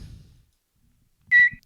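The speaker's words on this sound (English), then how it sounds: "Oh, the tweet sound." A phone gives a single short, high, bright chirp as a tweet notification, heard up close. It comes after a brief low rumble and a moment of near silence.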